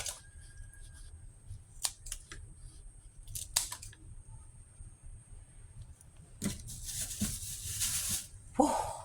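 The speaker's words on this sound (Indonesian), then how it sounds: "Kakinya digunting." Scissors snip the legs off raw shrimp being cleaned before freezing, giving a few sharp, close clicks spread through the clip, with louder handling noise near the end.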